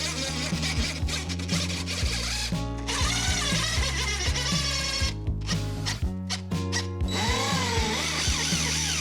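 A power drill runs in bursts while driving an anchor into a wall for a shelf bracket. It whines loudly and close by, the motor pitch rising and falling, with short stops between the runs.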